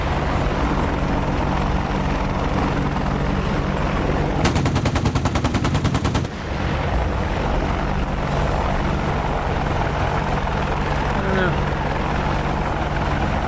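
Apache attack helicopter in a video game mod keeps up a steady rotor drone while its cannon fires one rapid, evenly spaced burst lasting about two seconds, then the rotor hum carries on alone.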